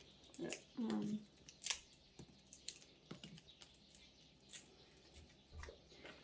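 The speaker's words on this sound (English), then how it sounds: "Shall I cut the garlic? Cut up the garlic." A knife cuts garlic cloves for Korean jjamppong seafood noodle soup, giving a few sharp, scattered taps and clicks close by, with people talking in between.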